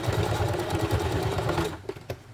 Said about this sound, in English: I like to do my straight stitch